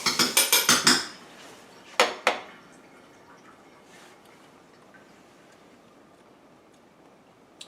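Metal spoon clinking against a cooking pot of smothered chicken, a quick burst of about six ringing taps, then two more clinks and quiet rustling afterward.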